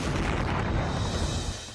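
Deep booming blast with a rolling rumble from street fighting amid urban buildings, loud and sustained for under two seconds, then fading slightly.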